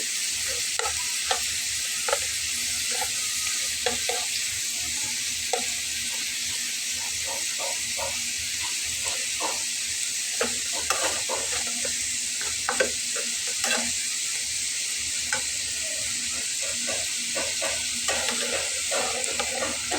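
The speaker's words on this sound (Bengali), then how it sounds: "এখন এটাকে বারবার নেড়ে ছেড়ে নেড়ে ছেড়ে গোল্ডেন ব্রাউন করে ভেজে নিতে হবে" Flour-based sweet crunchy snack frying in hot oil, a steady close sizzling hiss broken by frequent light scrapes and clicks as it is stirred over and over until golden brown; no talking.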